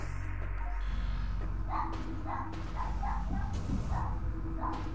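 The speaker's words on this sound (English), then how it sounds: "Hey, ignore the dog." A dog barks repeatedly in a short, uneven series of yips and woofs in the background of Metroid gameplay, laid over steady game music and ambient rumble.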